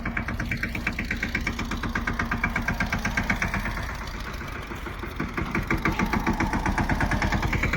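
A tractor engine idles close by with a rhythmic, chugging throb, easing briefly midway before resuming its steady knocking pulse.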